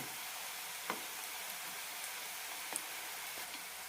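Sweet potato pieces frying on high flame for a jaggery snack give a faint, steady sizzle with a few soft ticks and clinks throughout, no voices present.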